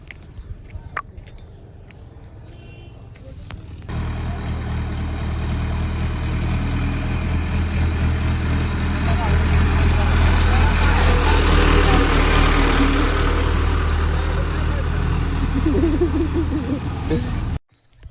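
A tractor engine starts after a few quiet seconds and then idles at a steady, loud, low rumble for most of the stretch before cutting off abruptly at the end.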